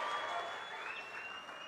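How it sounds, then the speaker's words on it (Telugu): Crowd clapping at a political rally in a village in Nandyal district, a dense wash of hands sustained at a steady level, fairly distant, with a faint tonal whine running across it. "గట్టిగా చప్పట్లు కూడా చెప్పండి"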